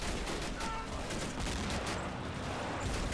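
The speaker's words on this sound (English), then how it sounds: "Oh, mortar's dropping, though." Mortar shells burst in a WWII Allied invasion of Italy video game battle, a dense, steady barrage of booming impacts and gunfire mixed with battle noise, with a voice talking over it.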